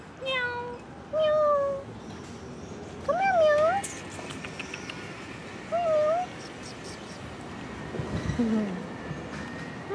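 A cat meows several times, short rising and falling cries spread across the moments, close by, with faint room noise and a brief low voice near the end.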